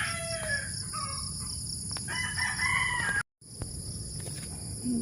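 A rooster crows while chickens cluck nearby, with a steady high-pitched hum in the background and a brief dropout partway through.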